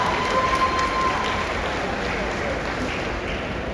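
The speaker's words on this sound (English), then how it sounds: "Please give a round of applause for Dr. Vicky Zhang." A crowd at a community fundraising party applauds, a steady wash of many hands clapping that runs evenly through the whole short stretch.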